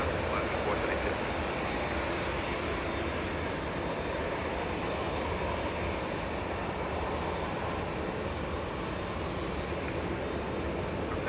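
An airliner takes off at Los Angeles International Airport, a broad, steady roar of jet engines filling the scene at moderate distance with little change over its length.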